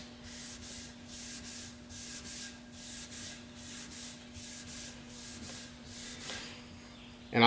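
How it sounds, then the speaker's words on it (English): A Scotch-Brite pad rubs along the grain of wood coated in LED-cured hard wax oil, giving steady rhythmic back-and-forth scrubbing strokes, close and fairly quiet, with a low electrical hum beneath and no talk. "Then I'm gonna go with the grain here, just removing some more of this excess."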